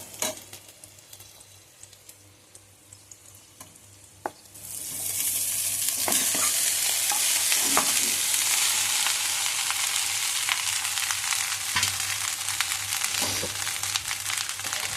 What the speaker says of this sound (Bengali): আবারও ভাতটা নাড়াচাড়া করে ফিরে এলাম